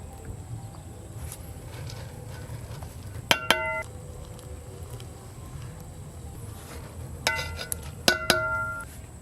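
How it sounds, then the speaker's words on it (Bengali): Boiled rice for kacchi biryani is strained and spooned into the biryani pot, with two clusters of bright metallic clinks over a low, steady kitchen background. "এবার এই যে ভাত ছেঁকে একদম বিরিয়ানির হাঁড়িতে দিয়ে দেব।"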